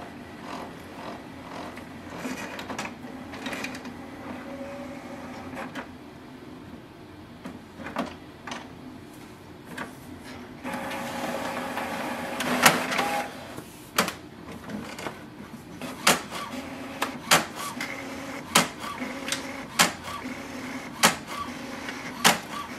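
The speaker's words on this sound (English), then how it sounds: "For example, here I have already done that, so it is printing on the both sides." An HP OfficeJet Pro 8210 inkjet printer running a two-sided print job, with a steady mechanical whir broken by a louder feed section and then a series of sharp clicks and clunks from the paper handling, heard close with no talk.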